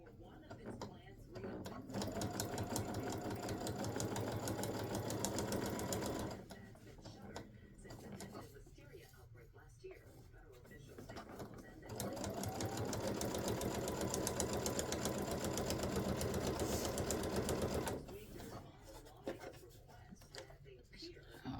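An embroidery sewing machine stitches binding onto a pot holder, running in two long steady buzzing stretches with a pause between, while a person talks over it.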